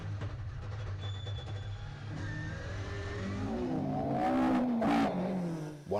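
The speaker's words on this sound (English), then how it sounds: "Going on board with third place class runners Rob Cox and Joe Graham, now in their Ford Escort Mark II RS" Onboard a Ford Escort Mark II RS rally car at Cadwell Park, its engine revving hard and steady up close, pitch climbing through the gears with a loud surge toward the end, no voices.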